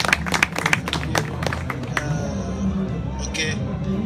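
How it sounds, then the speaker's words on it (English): An audience claps at a 2019 English language club meeting in Sudan, a burst of dense, close clapping that gradually thins out under a background of crowd chatter and murmuring voices. "Please give Mr. Muhammad Sulaiman a harsh clap."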